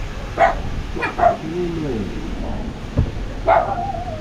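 A dog barks several times in short yips, spaced irregularly, with people talking over the background.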